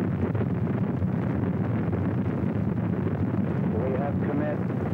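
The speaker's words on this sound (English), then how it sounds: "We have liftoff." The Apollo 8 rocket lifts off in its December 1968 launch, its engines giving a loud, continuous broadband roar that fills the whole stretch, with a voice faintly over it.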